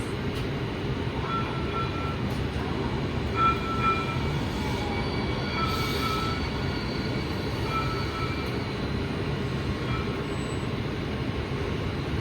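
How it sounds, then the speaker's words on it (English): A VTA light rail train arrives on the opposite track with a sustained rumbling roll, brief high squeals and chimes over the steady interior noise of another moving train. "is that another train arriving on the other side?"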